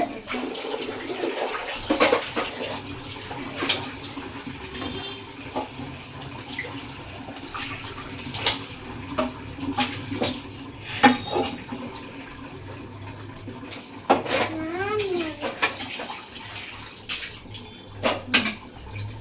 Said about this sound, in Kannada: ಫೈನಲಿ ಪಾತ್ರೆ ತೊಳ್ದಾಯ್ತು